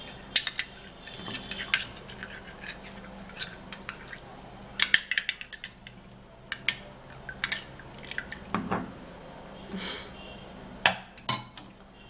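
A spoon stirring a honey and cucumber mixture in a small bowl, with irregular close clinks and taps against the sides and soft wet squishes between them, no voices.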